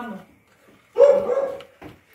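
A dog gives a single, fairly close bark followed by a drawn-out, hoarse whine-like tail, with faint voices before and a short sound after, in a quiet domestic setting.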